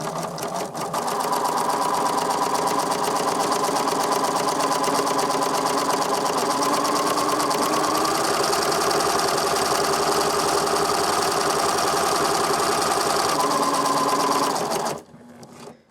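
A sewing machine stitches parallel lines in one continuous run, its motor and needle whirring loudly and steadily for about fourteen seconds before stopping abruptly.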